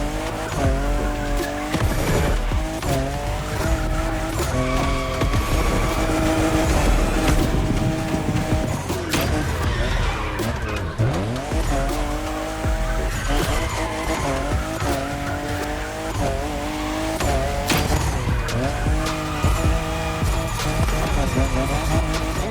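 Fifth-generation Toyota Supra racing in The Crew Motorfest, with loud continuous engine revs rising and falling through gear changes, intermittent tire squeals and skids, and a busy mix of sounds throughout.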